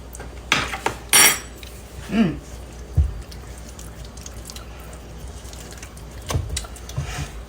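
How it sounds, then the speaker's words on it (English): A spoon set back into a cooking pot of chicken and dressing, giving a few clinks and scrapes of metal on the pot with a soft wet stir, close by, then quieter kitchen rustling. "I'm going to put my spoon back in there."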